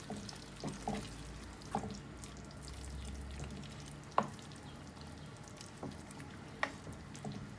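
Chicken karahi with freshly added yogurt frying in a pan, a steady soft sizzle with occasional sharp clinks and stirring scrapes at irregular intervals, fairly quiet and close with no talking.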